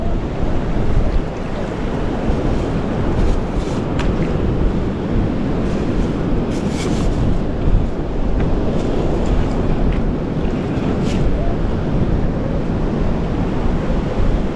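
Strong wind sweeps a beach after Tropical Storm Debbie, rumbling against the microphone over the constant wash of nearby surf. The noise stays loud and unbroken throughout, with no voices.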